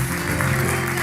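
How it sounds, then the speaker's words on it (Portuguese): A studio audience on a Portuguese afternoon talk show claps to welcome a guest, a brief, loud, even burst of applause with a low hum beneath it. "um grande aplauso"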